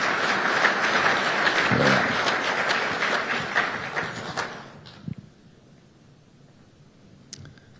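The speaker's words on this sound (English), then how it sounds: "Let's give him a round of applause" Audience at a State of the City event applauds loudly and steadily for several seconds, then the clapping thins out and fades to scattered claps and quiet.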